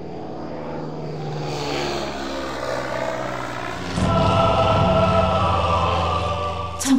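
A small propeller airplane drones steadily in a played film, its engine hum growing louder and nearer partway through, alone without talk.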